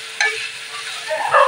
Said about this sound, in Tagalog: ginisa muna natin siya para masarap siya mamaya